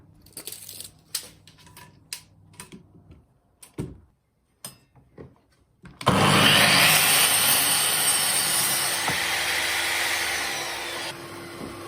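Mitre saw cutting wood pieces to length, a loud, sustained whining cut that starts abruptly after several scattered knocks and handling clunks and runs steadily for about six seconds, close by with no talking.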